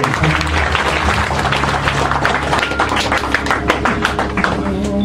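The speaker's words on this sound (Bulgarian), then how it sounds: "Нека да благодарим с силно ръкопляскане за Господа" A church congregation claps loudly and steadily, with a thick wash of many hands that keeps going without pause for several seconds.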